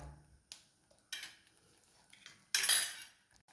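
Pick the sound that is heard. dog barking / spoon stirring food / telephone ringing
spoon stirring food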